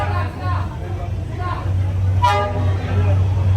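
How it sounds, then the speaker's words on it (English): A train horn toots on Hanoi's train street, where the tracks run between houses, sounding a few short blasts over a low rumble and street ambience, with a brief higher honk near the end. "Get ready for the train to come."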